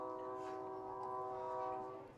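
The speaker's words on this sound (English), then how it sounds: "Another train going through town." A train passing through town near a baseball field, heard as a sustained, fairly faint horn tone drawn out over a low rumble, steady throughout.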